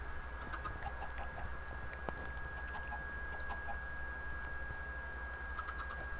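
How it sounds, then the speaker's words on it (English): Minecraft chickens cluck softly over a steady electronic hum and faint background noise, with no voices. "Bro, we got tons of chickens."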